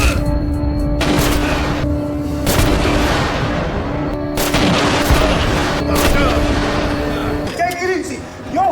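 Gunfire erupts in an action movie scene as a former Marine shoots at a gang inside a club, with repeated loud bursts and booming shots over a tense musical score.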